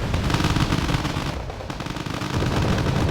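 Sustained machine-gun and rifle fire mixed with grenade blasts from a Wargame: Red Dragon battle involving Spetsnaz infantry and a BTR, dense and continuous throughout with a brief dip midway.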